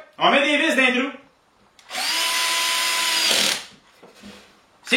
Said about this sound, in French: On met des vis dans les trous.